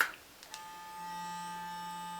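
A Clarisonic Mia 2 sonic facial cleansing brush hums on normal speed with a steady high-pitched electronic whine after a couple of faint clicks; quiet and close, no voices.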